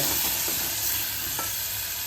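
Hot oil hisses continuously under a tempering of garlic, turmeric, red chili and coriander-cumin powder for Rajasthani kachri sabzi, with light scraping of a spoon stirring in the pan; close, steady and free of talk.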